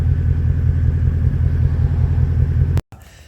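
A restored car engine idles steadily up close with a deep, even rumble that fills the clip, then cuts off abruptly near the end.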